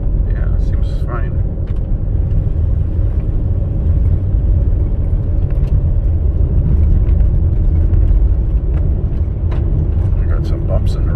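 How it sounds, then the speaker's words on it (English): A 2004 Toyota Sienna minivan drives over bumps and frost heaves in the road, producing a steady low road rumble and engine drone with faint thumps. A voice talks intermittently over the cabin noise. "I got some bumps in the road here."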